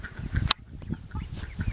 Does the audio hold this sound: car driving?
no